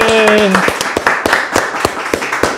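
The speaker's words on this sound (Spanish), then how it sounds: "Aplauso para el Meque, familia." Applause for a guest at the close of an interview: a burst of close hand claps in a loose rapid rhythm, starting under a briefly sung or spoken voice and then continuing alone.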